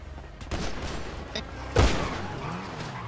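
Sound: gunfire in the video game GTA V

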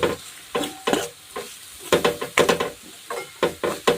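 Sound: stirring salt into red chili khuda in a pan

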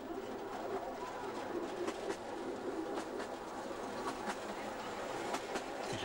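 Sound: train riding along the line

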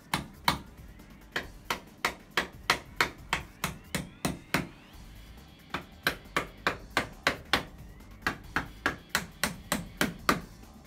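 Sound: hammer tapping fittings into place

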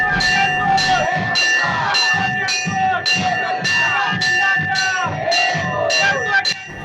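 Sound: festive crowd at Khandoba palanquin procession

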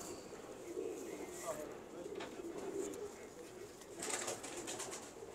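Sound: pigeons cooing

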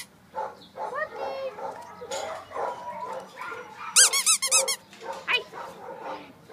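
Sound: puppy barking at animal shelter

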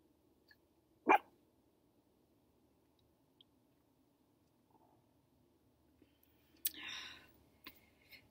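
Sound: dog barking at a campground

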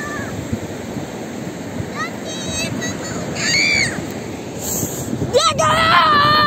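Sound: large sea waves breaking on the shore

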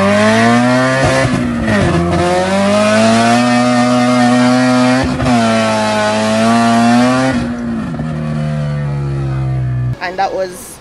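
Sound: car engine shifting through gears

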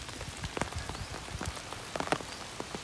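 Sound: heavy rain falling

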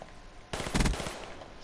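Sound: M16 burst-fire rifle shooting in video game Black Ops 3

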